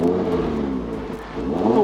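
An Audi RS3 engine revs up close, a throaty rising roar that dips briefly and then climbs again.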